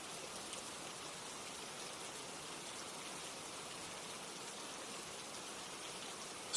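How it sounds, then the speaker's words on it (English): Steady rain falls as a soft, even hiss with no breaks, fairly quiet and unchanging throughout, with no voices. "I hear the sound of rain against windows"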